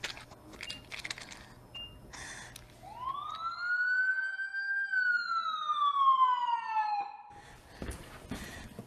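A wailing emergency siren sweeps up and then slowly down in pitch, playing loud and alone for several seconds inside a virtual reality emergency-response training simulation, with some faint clatter before and after.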